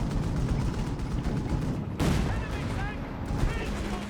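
Panzer III tank gun firing in Company of Heroes 3, a sharp blast about midway standing out over a dense, continuous battlefield din of gunfire, with a voice talking throughout.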